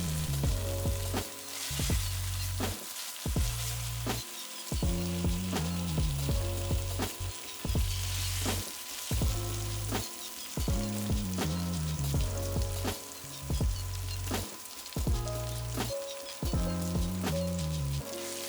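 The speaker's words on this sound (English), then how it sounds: "Then add in your freshly sliced tomatoes, let it break down a little, sweat it out so the flavors become more robust and flavorful." Fresh sliced tomatoes fry in a pan for a plant-based Hong Kong style tomato soup, giving a steady sizzle with soft crackles and occasional stirring, close and continuous throughout without any talk.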